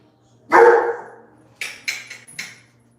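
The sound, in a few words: dog barking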